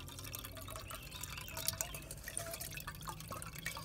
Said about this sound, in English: so we're just going to drain that through